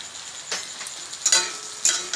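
Spices for an aloo potol (potato and pointed gourd) vegetarian curry fry quietly in a pan, with a soft steady sizzle broken by three brief scraping stirs.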